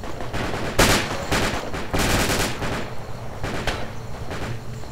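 Bursts of automatic rifle fire in Project Reality crack out in several loud, rapid volleys with short gaps, with distant battle noise between them and almost no talk.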